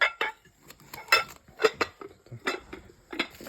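Glass bowls and small dishes clink and knock against each other in a rapid series of sharp, bright taps, close by, with no talking over them.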